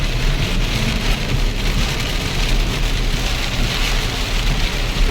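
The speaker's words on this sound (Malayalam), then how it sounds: "ഭയങ്കര കനത്ത മഴയും" Record-breaking heavy rain in the UAE pours steadily, a dense continuous hiss of drops hammering a surface with a low rumble underneath, no voices.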